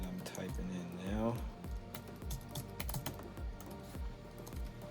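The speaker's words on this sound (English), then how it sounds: "Got my own password that I'm typing in now." Fingers tapping out a password on a computer keyboard, a quick irregular run of clicky keystrokes heard close, with a person talking over the typing.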